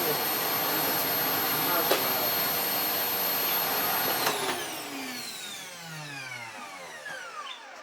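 A vacuum cleaner with a floor head attached runs with a steady, loud roar, then is switched off and winds down with a falling whine that fades over several seconds.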